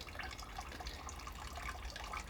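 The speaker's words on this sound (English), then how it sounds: "I'll just switch that tap off now." Water runs steadily from a garden tap near rain barrels, a continuous broadband splashing hiss that stays even and fairly close throughout with no pauses.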